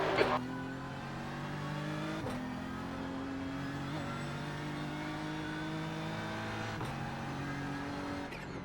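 Race car engine in an IMSA racing video game pulling out of the pit lane with bent steering, a steady droning note with shifting harmonics and a few gear-change jumps, continuous and loud under a faint speaking voice.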